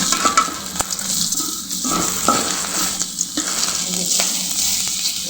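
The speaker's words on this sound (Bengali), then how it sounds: "এইভাবে আস্তে আস্তে জাল দিয়ে তারপরে এগুলো ভেজে নিতে হবে।" Taro leaf fritters (bora) fry in hot oil in a pan, sending up a loud, continuous close sizzle with occasional stirring clicks and pops throughout.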